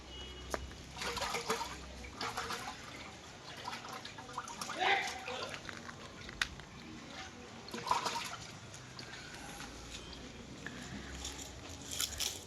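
Fish parts, a climbing perch head among them, are rinsed in water, with soft splashing and trickling over a busy background while people talk.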